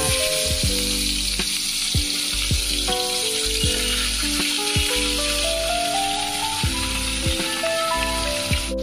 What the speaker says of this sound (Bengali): মাছটা ভেজে নেওয়ার জন্য আমি এখানে নিয়েছি সাদা তেল